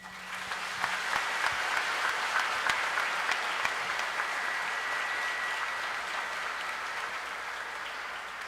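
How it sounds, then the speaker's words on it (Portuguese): A church congregation applauds steadily at a priestly ordination Mass, a dense, even wash of many hands clapping that holds from start to finish at moderate distance, with no voices over it. "E acolho com uma salva de palmas."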